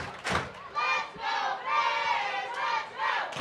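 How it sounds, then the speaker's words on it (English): Young fans in the stands at a North Carolina vs. Cal women's college soccer match chanting a rhythmic Let's Go Bears cheer, several loud shouted bursts in a steady repeating pattern from a crowd. "There's a Let's Go Bears cheer that's being led by young people."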